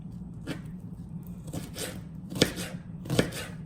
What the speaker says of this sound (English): I'm gonna cut them up just like this